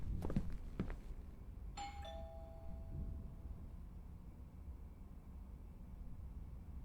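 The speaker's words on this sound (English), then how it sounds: "I should just ring the doorbell, see if he answers." A doorbell in the horror video game Within sounds a single two-note chime, clear and ringing, after a couple of soft clicks, then fades into a quiet, low ambient hum.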